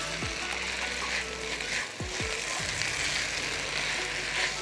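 Hot peppers and vegetables for a jalash filling frying in a pan, a steady soft sizzle throughout with occasional scraping and clinking of a utensil stirring the pan.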